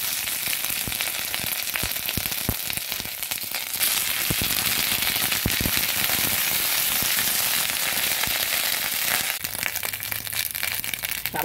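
Nigella seeds and ginger paste crackle and sizzle in hot oil, a loud, dense frying hiss with sharp popping spatters throughout, held up close with no talking.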